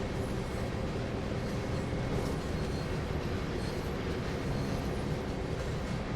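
A freight train on the Oakville Subdivision in Train Sim World runs along the tracks, giving a loud, continuous rolling rumble with a rhythmic rattle of the wagons.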